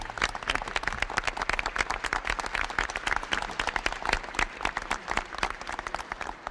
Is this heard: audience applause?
yes